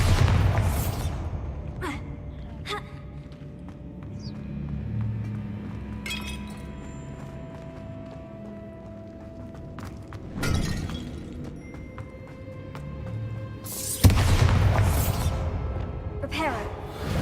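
Bombarda spell blasts in Hogwarts Legacy land as several sharp explosive bursts with shattering, glassy debris, spread out between quieter stretches and accompanied by a voice casting the spell.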